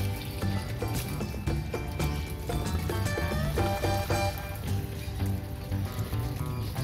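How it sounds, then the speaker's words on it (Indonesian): Water poured from a dipper onto potted cactus and succulents until the soil is soaked, a steady close splashing and trickling that runs throughout, loud and continuous, with no voices. "Nah, disiram sampai benar-benar"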